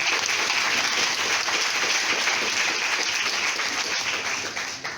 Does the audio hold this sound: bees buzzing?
no